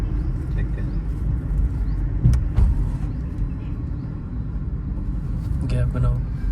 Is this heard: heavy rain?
no